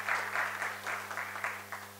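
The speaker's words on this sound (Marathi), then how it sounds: "आपण हे जोरदार टाळ्या वाजवून त्यांचं स्वागत करूया." Audience applause at a Nashik literary event welcoming a guest, a steady burst of many hands clapping together, fairly close and continuous for a couple of seconds without talk.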